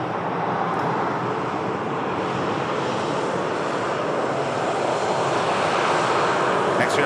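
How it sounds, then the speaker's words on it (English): Boeing 787 Dreamliner airliner passing, a continuous broad jet-engine roar at steady loudness with no clear rise or fade, heard throughout. "And there's the Dreamliner just crossing our paths there."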